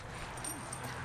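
A dog whimpers faintly while playing with another dog, a thin brief whine half-buried in steady background noise.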